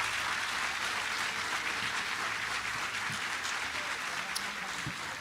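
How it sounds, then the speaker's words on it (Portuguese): A church congregation gives a round of applause at a preacher's call during a sermon on the story of Joseph, a sustained, even patter of many hands clapping at moderate loudness. "dê a melhor salva de palmas que você pode dar"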